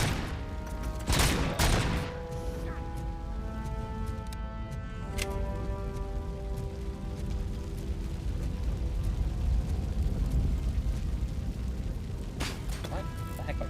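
Repeated explosions and heavy gunfire in the RoboCop: Rogue City video game, with sharp blasts near the start and around five seconds over a continuous din of shooting and game music.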